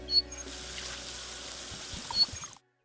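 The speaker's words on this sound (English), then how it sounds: "we always wash with soap and water" Water running steadily from a tap into a sink during handwashing with soap, a continuous near splash and trickle that cuts off abruptly at the end.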